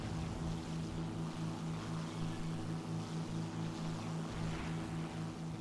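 Droning piston engine of a Me 410 A-1/U4 fighter-bomber climbing steadily in War Thunder, with a steady low harmonic hum and propeller buzz holding even and loud throughout, no talk.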